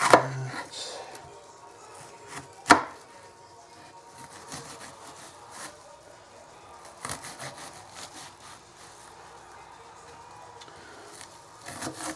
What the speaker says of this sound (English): So it's the onion chopped up already.